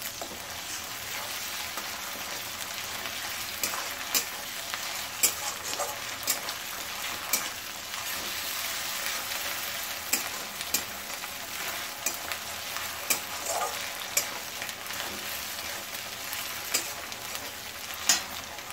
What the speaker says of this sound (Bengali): এটাকে ভালো করে এখন একটু ভেজে নেব।